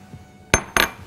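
Cherry tomatoes drop into a glass bowl as two separate, bright clinks about a quarter second apart, close and clear against a quiet room.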